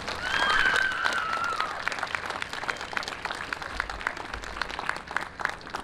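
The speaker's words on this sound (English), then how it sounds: "Let's have another big round of applause for our seniors" A big round of applause for seniors at a high school awards night, dense clapping that swells at first and then holds steady, with a cheer rising over it early on.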